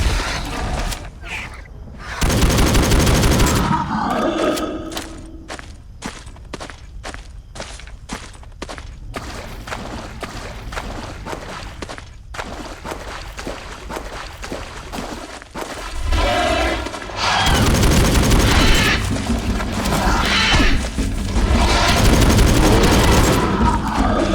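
Gunfire in the video game Jurassic: The Hunted: heavy booming bursts, then a long run of evenly spaced single shots, then more loud sustained firing with explosive rumbles, all close and loud.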